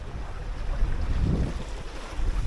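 A small sailboat under full sail at sea, heavy wind rushing over the microphone with a low surging wash of water against the hull, steady and loud.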